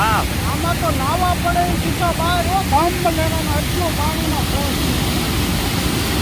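Rushing water from an overflowing village pond hisses steadily through streams under strong pressure like a nearby torrent, while birds chirp and trill above the constant wash.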